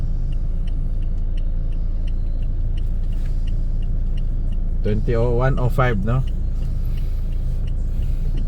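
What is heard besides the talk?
car driving in Davao City traffic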